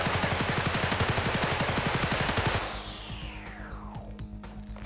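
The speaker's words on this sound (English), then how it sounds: "Bro, he got a machine gun" A video game machine gun fires a loud, fast, continuous burst, then cuts off into ringing echoes and scattered distant shots.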